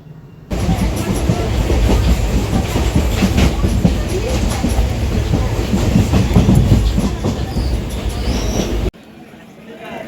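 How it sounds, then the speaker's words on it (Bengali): A passenger train runs on the tracks with a loud, close, continuous rumble and rhythmic wheel clatter that lasts most of the stretch, then cuts off abruptly into a quieter background near the end. "এই ট্রেনটাতে করেই আমরা ভগবান গোলা যাচ্ছি"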